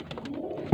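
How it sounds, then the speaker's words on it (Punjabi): A Firozpuri pigeon coos in a breeder's loft in Faisalabad: a single brief, close, low cooing note at the very end, after a moment of soft background murmur. "ਆਹ ਫਿਰੋਜ਼ਪੁਰੀ ਕਬੂਤਰ ਹੈ"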